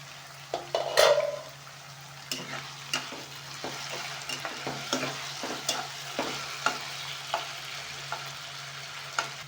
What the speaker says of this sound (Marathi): हे दोन ते तीन मिनटं आपण भाजून घेऊ